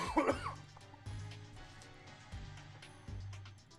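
Corbeau, a character in the video game Pokémon Legends: Z-A, clears his throat once, sharply and up close. A low, steady in-game background follows.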